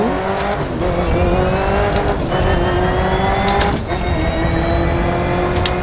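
Ford GT engine in The Crew 2 racing game revving hard through downshifts, a loud continuous rasping roar with rising and falling pitch and sharp blips, alone without talk.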